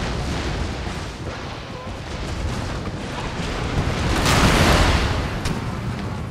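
Rocket artillery barrage in Empire: Total War with Darthmod, a dense continuous roar of launches and blasts swelling louder toward the middle before easing off.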